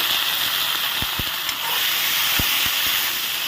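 Soaked masoor dal hits frying onions in a pan, giving a steady loud hiss and sizzle throughout, with a few soft low knocks and clicks from stirring; no one talks.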